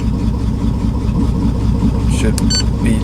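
A Dodge Magnum 3.5L V6 stroker with big cams and ported heads and intake, idling on its first fire as a steady loud lumpy rumble with a few faint high chirps near the end.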